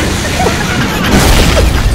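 A video game explosion fills the clip with a loud, sustained broadband roar and rumble, dense and continuous for two seconds with no distinct onset, with faint voices underneath.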